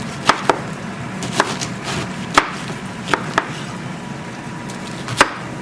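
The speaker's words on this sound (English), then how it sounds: "And now you just chop it" Cabbage chopped with a knife on a board for Jamaican steamed cabbage: sharp, close knife strikes land irregularly, several spaced hits with brief pauses between, loud against a quiet kitchen background with no voices.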